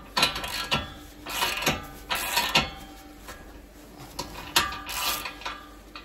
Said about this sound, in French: Tu prends ton cliquet et c'est pareil quoi.